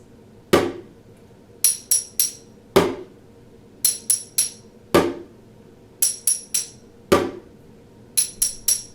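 A chopstick taps out a repeating ostinato: a low thud on a bigger bucket followed by three quick bright clinks on a small jar, the pattern cycling four times, close and alone.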